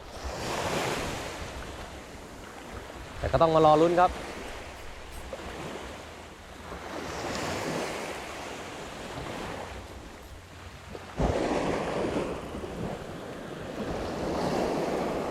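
Strong wind gusting along a fishing beach in Pattaya, roaring over crashing surf in rising and falling waves, with a brief spoken remark in the middle.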